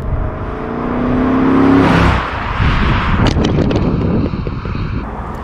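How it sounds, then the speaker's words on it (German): A 2001 BMW Z8 roadster's 400 hp V8 revs up and accelerates hard, its engine note rising loudly before a gear change and a rushing surge with wind buffeting the microphone. "Also einen echten 8-Zylinder, der auch richtig Gas gibt. Ja, aber der rauscht schon los."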